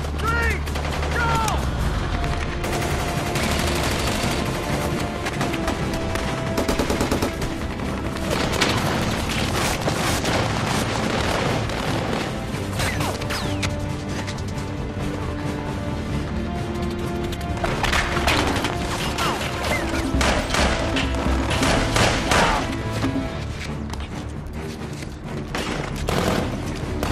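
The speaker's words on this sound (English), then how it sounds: "We're gonna lay down some cover fire for him on three." Dense, sustained covering gunfire from the 2001 war film Black Hawk Down, a continuous loud barrage of rifle and machine-gun bursts with booming impacts lasting throughout, thick and close.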